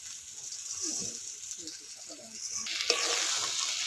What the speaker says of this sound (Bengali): এবার আমি এই চালগুলো দিয়ে দিচ্ছি